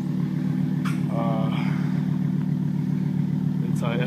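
A 2007 GMC Canyon SLE five-cylinder with a freshly fitted straight pipe exhaust idles with a deep, steady, loud rumble close by, while someone talks briefly over it.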